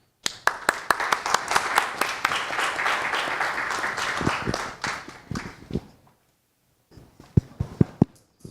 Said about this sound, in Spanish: con un gran aplauso, por favor